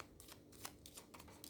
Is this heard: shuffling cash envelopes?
yes